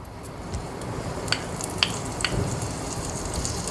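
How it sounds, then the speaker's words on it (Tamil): Four or five butter cubes melt in a hot pan, giving a soft, continuous sizzle with a few faint clicks and pops scattered through it. "அதில் வந்து கொஞ்சம் வெண்ணெய் க்யூப்ஸ், சும்மா ஒரு 4-5 வெண்ணெய் க்யூப்ஸ் வந்து சேர்த்துக்கோங்க."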